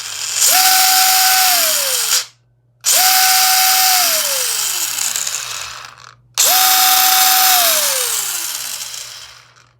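Electric RC car motor, a bouncer build, revving in three separate loud bursts, each a high whine that climbs, holds, then winds down, with short silent gaps between them and no talking.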